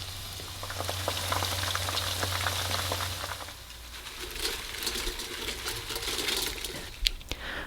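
Battered oyster mushrooms fry in hot oil, giving a steady close crackle and sizzle with scattered pops and a sharp clink near the end.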